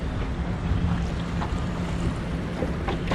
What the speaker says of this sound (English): These damn barge wakes coming.